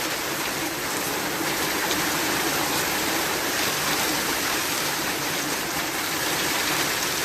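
A heavy rain downpour in a Ukrainian village pours down in a dense, steady hiss, loud and unbroken throughout, with no voices.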